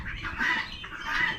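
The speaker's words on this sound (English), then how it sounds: "Bunch of ducks." A bunch of mixed ducks at an Amish animal auction quack and squawk nearby in two rasping bursts, with a low murmur of the sale floor behind them.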